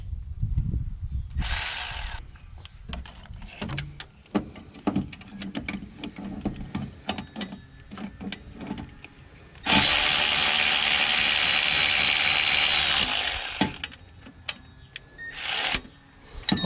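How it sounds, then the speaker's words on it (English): A hand ratchet clicks in quick, uneven bursts as it tightens the alternator bolt on a 2009 Scion xB, with clattering and knocking of tools against the engine. A loud, steady rush of broadband noise cuts in partway through, then a short burst near the end. "Let's get our ratchet in there and see if we can tighten it up a little bit."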